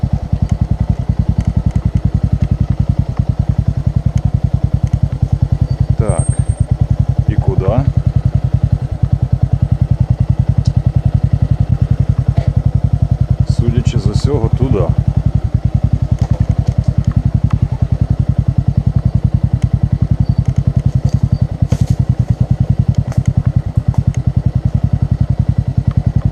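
A Bajaj Boxer motorcycle engine roars steadily throughout on forest off-road terrain, with rattling clatter and occasional thumps from rough ground, loud and continuous with no speech.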